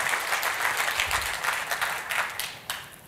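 An audience at a conference keynote applauds, a dense, steady wash of many hands clapping that holds throughout at moderate loudness, heard from within the room.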